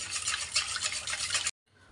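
Yogurt and hot water being stirred by hand in a bowl into a creamy batter, a steady close wet scraping and swishing for about a second and a half before a sudden stop, then fainter faint stirring resumes.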